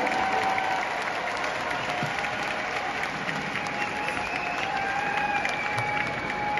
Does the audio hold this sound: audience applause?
yes